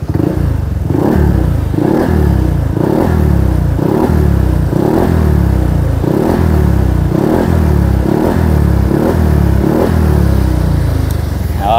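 A Honda Stylo 160 scooter engine revs in repeated bursts through a baffled exhaust, deep and bassy, loud and close, with a steady rhythmic throb and no talking.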